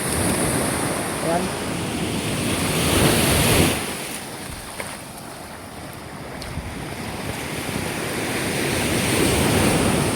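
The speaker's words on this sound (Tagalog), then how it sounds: "Sobrang lakas ng alon, nasira yung riprap." Strong waves crash and roar along a shore with a damaged riprap seawall as wind buffets the microphone, the surf swelling and easing; a voice speaks a single word.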